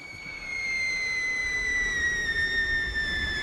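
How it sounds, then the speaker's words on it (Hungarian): A high-pitched whistling noise, a steady piercing tone with faint overtones that sounds continuously and slides slightly downward in pitch, over a low background rumble with no voices. "mi ez a sípolás?"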